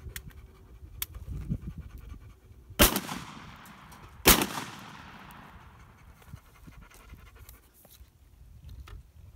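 TOZ 66 12 gauge coach shotgun from Tula Arsenal with full-choke barrels, loaded with number five shot, fired outdoors at 20 litre drums: two loud sharp blasts about a second and a half apart, each trailing off, amid rustling and breathing.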